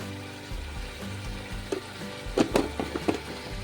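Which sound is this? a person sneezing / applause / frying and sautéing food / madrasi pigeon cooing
frying and sautéing food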